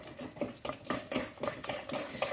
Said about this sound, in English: Keep stirring until it's fully incorporated.